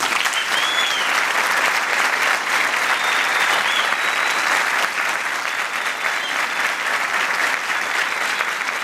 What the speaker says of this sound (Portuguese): pedir uma salva de palmas para vocês e para os professores de vocês